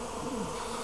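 Honeybees buzzing near three village beehives across the street, a dense continuous hum with no voices, steady and fairly close.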